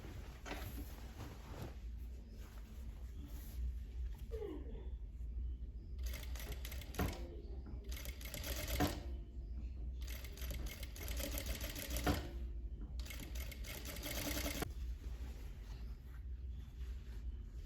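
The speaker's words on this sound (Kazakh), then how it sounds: "Етегімізді просто мына оверлоктан, оверлоктың шетімен ғана тігіп шығамыз." An overlock serger stitches the hem of a bias-cut skirt in several fast running bursts separated by short pauses, a steady close mechanical whir with a sharp high rattle.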